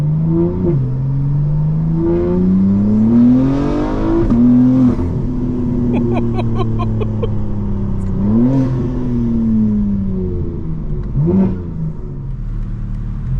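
A 2024 BMW M4 Competition accelerates hard at full throttle, its engine climbing in pitch through several gears with brief dips at each shift, loud and close from inside the cabin.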